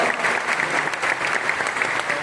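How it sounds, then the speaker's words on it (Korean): Church congregation applauding at a denominational gathering, a steady wash of many hands clapping, moderately loud and continuous throughout. "담임 목사님과 함께 오시면 박수 한번 하시면 감사합니다"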